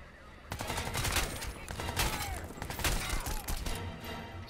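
Gunfire in the video game Crysis 2 Remastered, sustained rapid automatic bursts with loud overlapping shots and impacts filling the clip after a brief quiet start.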